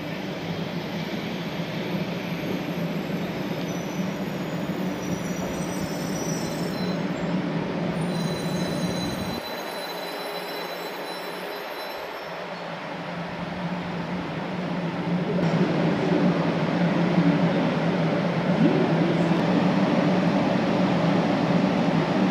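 A pink-painted Shinkansen series 500 bullet train sweeps past with a loud, sustained rushing roar and wheel hiss. The sound dips briefly, then swells louder again as the cars keep passing.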